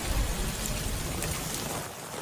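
Heavy, steady rain pours down during a severe storm sweeping the southeastern US, a dense continuous wash of noise with a low rumble underneath and no voices.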